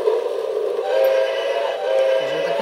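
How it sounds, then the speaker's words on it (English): A children's Story Train toy, its choo-choo train going around the track, giving off a steady whistle-like tone over a soft mechanical hum, with a brief lower warble near the end. "And there goes the choo-choo train. The choo-choo train is going around the track."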